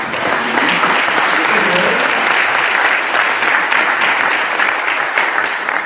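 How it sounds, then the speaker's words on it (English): Sustained applause from a large luncheon audience for award recipients, steady and full for several seconds without a break. "how about a final round of applause for all of our award recipients?"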